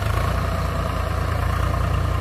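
A Swaraj 744 tractor of 45 HP labors through freshly laid soil, its diesel engine giving a steady, loud, low rumble without break and with no voices.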